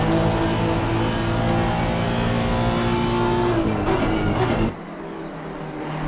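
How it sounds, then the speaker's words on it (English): A Honda race car engine drones loudly in a PC racing game set at Snetterton, holding a steady high-revving whine before dropping sharply to a lower, quieter rumble near the end. "Listen to that Honda engine."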